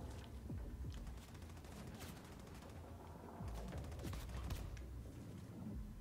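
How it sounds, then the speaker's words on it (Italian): Enemy gunfire rattles toward the player in the shooter Wolfenstein II: The New Colossus, rapid automatic bursts and scattered shots over a low, busy game soundscape, fairly quiet throughout. "Ma chi è che mi spara?"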